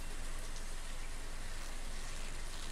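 Steady rainfall in the Stardew Valley video game, an even, continuous hiss of falling rain with no pauses, fairly loud and alone with no talk.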